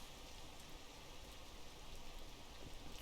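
Faint, steady rain hiss from the tropical area of the video game PEAK, a continuous even wash of patter with no voices over it.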